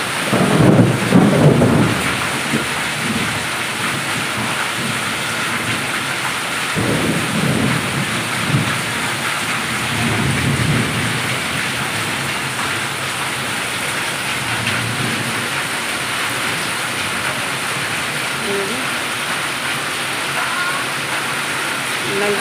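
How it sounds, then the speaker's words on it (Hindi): Heavy rain pours steadily in Jaipur with a loud crack of thunder near the start and rumbling rolls later, dense hiss throughout. "बिजली भी कड़क रही है।"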